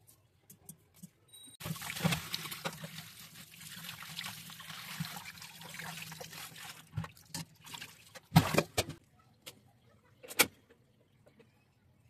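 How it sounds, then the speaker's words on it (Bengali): Water trickles and splashes in uneven spurts as radishes are washed by hand in a kitchen, with soft clunks and handling noises between the pours. "আমি এখান থেকে 3টা মূলা পরিষ্কার করে ধুয়ে কেটে নিব সুন্দর করে"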